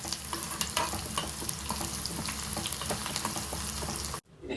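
Onion and dried red chillies fry in a pan with a loud, steady sizzle and crackle under occasional stirring, which stops abruptly near the end.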